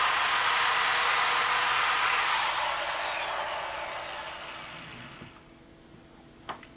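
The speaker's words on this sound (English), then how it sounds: "drill the second hole" A close, high-pitched power drill whines and slowly winds down, ending with a couple of small knocks.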